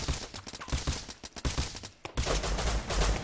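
Gunfire in the game Rust, a rapid string of sharp shots cracking in uneven bursts, then a denser roar of fire close by with no talk.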